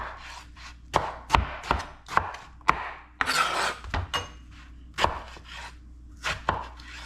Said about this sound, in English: Pull your knife through